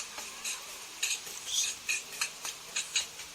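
A spoon stirs an octopus dish with sliced red chili in a metal pot, giving irregular scraping clinks and soft sizzling bursts at close range, with no voices.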